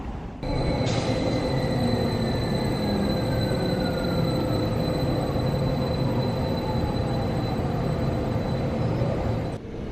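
Steady rumble of a train running on rails into the Swiss Alps, with a sustained high squeal from the wheels and a faint whine sliding slowly down in pitch.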